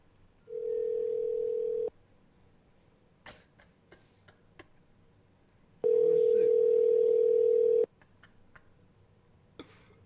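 A telephone call rings out on the line: two long, steady ringback tones separated by a pause, with small clicks and taps in between and no speech over the tones.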